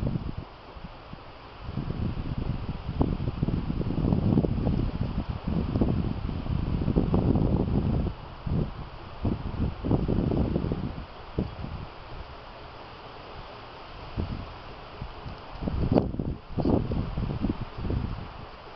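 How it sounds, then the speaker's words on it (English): Gusty wind buffets the microphone outdoors beside a Lang smoker cooking beef back ribs, in irregular low rumbling bursts, rising and fading, with a steady background hiss. "Wind's kind of playing havoc with me."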